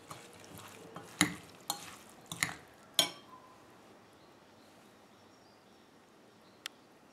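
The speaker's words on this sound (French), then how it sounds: "j'ai mélangé les spaghettis avec la sauce" Spaghetti being stirred and mixed with a cherry tomato sauce, with a few sharp clinks and scrapes of utensils against a pot or bowl in a quiet kitchen, followed by near silence and one last faint tap.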